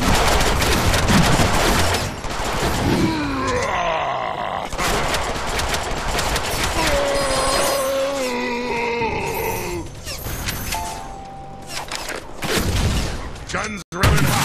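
Rapid gunfire from Summers' gun in the Deadpool video game on Xbox, sustained bursts mixed with game music, effects and character voices throughout, loud and dense with a brief cutout near the end.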